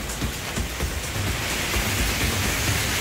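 Heavy rain pours steadily outside a laundry and water station, a dense, loud, continuous wash of drops hitting surfaces with no voices over it.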